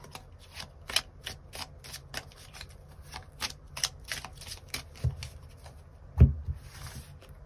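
Tarot cards shuffled rapidly by hand, a close, crisp run of riffling flicks and slaps in quick rhythm, ending with a firmer thump as a card is drawn and set down.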